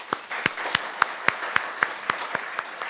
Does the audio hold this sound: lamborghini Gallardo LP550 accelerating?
no